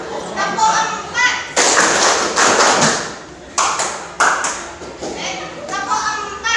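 Several loud groups of unison hand claps from children doing a four-beat clapping pattern, separated by brief pauses and interleaved with chanted group voices.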